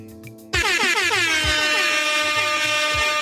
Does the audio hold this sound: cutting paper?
no